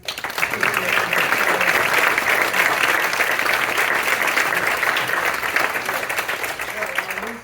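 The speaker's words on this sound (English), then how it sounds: "Put your hands together for the organizers. Clap it up for them, everybody." A comedy show audience applauds the event organizers with loud, sustained clapping and some crowd noise, rising quickly and holding steady for several seconds before easing slightly.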